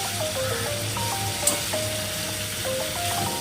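Vegetable stalks and turmeric sizzling in a pan as they are stirred for a village-style mixed vegetable curry, with a steady close hiss, a single clink partway through and faint tones in the background.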